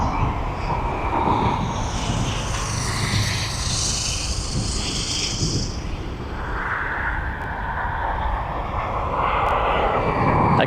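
An airliner powered by GE90 engines roars at East Midlands Airport, a loud sustained jet rumble with a shifting high whine, close and continuous for the whole stretch without voices.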